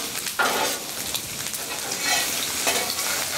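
Onions sizzling on a Blackstone griddle top, a steady loud hiss with short bursts of stirring or scraping, no voices.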